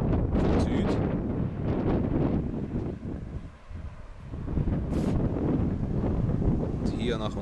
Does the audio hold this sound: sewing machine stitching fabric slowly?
no